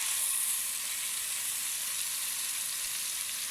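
Tomato paste from two medium tomatoes sizzles in hot ghee with a steady, dense hiss that stays loud and even throughout, no voices present.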